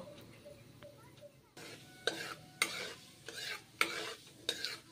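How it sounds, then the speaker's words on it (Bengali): Panch phoron five-spice seeds fry in hot mustard oil in a pan: a steady low sizzle with repeated loud, broad scraping stirs every half second or so, close and clear, with no talking. "পাঁচ ফোড়নগুলো ভেজে নিচ্ছি"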